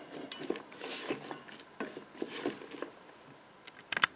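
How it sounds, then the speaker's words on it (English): Raw white onion being stirred into empanada filling with a utensil, giving intermittent scraping and clinking against a bowl, fairly close, with a few sharper taps at the end. "So I'm just going to mix it in really good."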